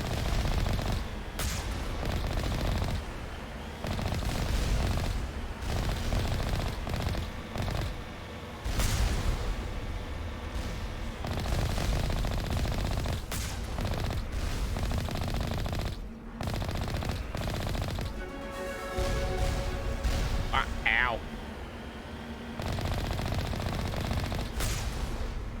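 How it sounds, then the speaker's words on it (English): Rapid machine-gun bursts and single gunshots fire at the player in the sci-fi video game Mass Effect, loud and repeated in dense volleys across the scene with brief pauses, with no talking over them. "Oh, firing at us already, eh?"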